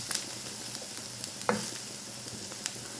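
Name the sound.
garlic frying for shrimp biryani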